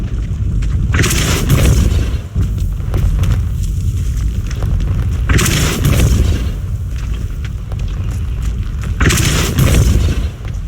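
Repeated spell blasts cast in Hogwarts Legacy: three loud booming bursts with a rushing, fiery tail, spaced a few seconds apart over a steady rumbling background.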